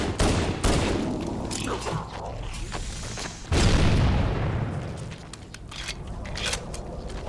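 Grenades explode in the Halo video game amid heavy combat, loud booms landing near the start and again midway, surrounded by crackling gunfire and battle noise with no voices.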